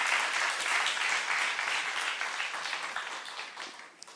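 Congregation at a church leaders' retreat applauding in praise to God, a dense burst of clapping that starts strong and gradually thins and fades toward the end.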